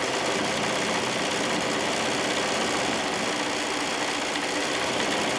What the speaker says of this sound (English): we're sewing down the long handle sides